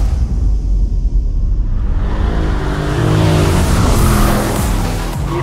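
A Mercedes on stock Michelin Pilot Sport 4S tires goes to full throttle on a race track, the engine note climbing loudly in rising, harmonic-rich sweeps that build steadily toward the end.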